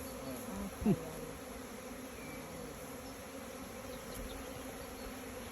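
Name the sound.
honeybees entering the hive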